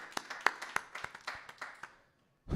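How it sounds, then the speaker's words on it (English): A small crowd at a comedy show claps for the host, with a sparse scatter of claps that thins out and stops, followed by a brief silence. "Clap it up for y'all host one time"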